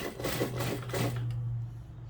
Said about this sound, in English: Just make it flat, and then I sew it down,